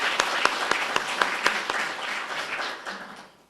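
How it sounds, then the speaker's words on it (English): Audience applause at an annual meeting, a dense round of clapping that holds steady for a few seconds and then tapers off at the end. "a round of applause for each of those drivers"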